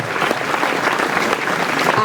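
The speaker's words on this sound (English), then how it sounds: "Let us clap." Audience clapping at a school homecoming ceremony, a dense, loud wash of many hands applauding steadily and close for a couple of seconds.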